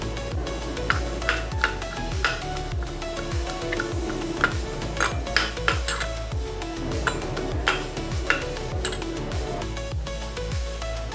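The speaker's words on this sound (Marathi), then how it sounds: "आता त्या आपल्याला खलबत्त्यामध्ये ठेचायच्या." Garlic cloves are crushed in a mortar and pestle with rapid rhythmic pounding, a steady run of sharp, close knocks and ringing clinks of the stone, with no talking over it.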